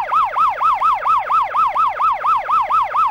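An ambulance siren wails in a fast, steady up-and-down cycle, loud and close throughout, with no voices.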